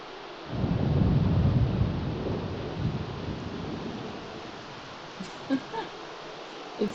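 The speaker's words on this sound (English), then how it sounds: "It's really thunder and lightning here." A thunderstorm with rain in The Sims 3 opens with a deep rolling rumble of thunder that gradually fades into a soft steady hiss of rainfall, with a few faint small clicks near the end.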